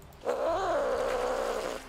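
A game cat sound effect from Nancy Drew: Sea of Darkness rises and wavers in a drawn-out, cry-like yowl lasting under two seconds. It is heard alone and fairly loud over a quiet background.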